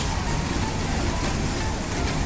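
Heavy downpour during the monsoon month of Shraavan, a steady, dense hiss of rain falling continuously and loudly with no break or voices.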